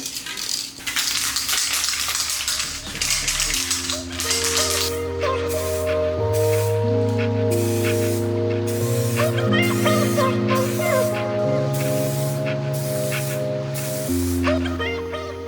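A spray can of clear coat hisses onto a BMW E36 in repeated bursts, loud and near, over a steady background of tones.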